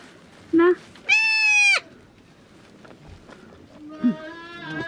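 Goats bleat on a farm in short bursts: a quick cry, then a longer wavering bleat, and another after a pause, close by over quiet background.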